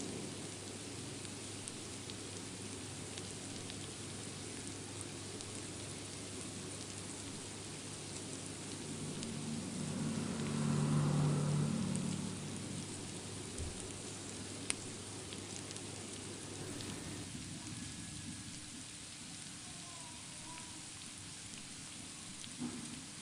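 Chopped onion sautés in a pan for poha, giving off a steady, soft hiss and sizzle that stays even throughout, swells slightly midway, and plays alone without voices.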